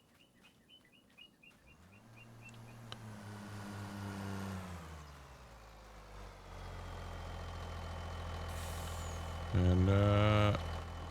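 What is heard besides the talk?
truck driving past in the video game Farming Simulator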